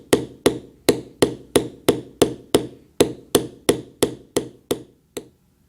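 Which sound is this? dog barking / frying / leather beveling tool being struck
leather beveling tool being struck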